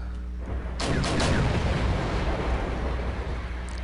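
Artillery fire from the video game Wargame: a deep, rumbling blast opens around half a second in and rolls on as a sustained low roar with scattered crackling bursts, loud and steady, with no talking.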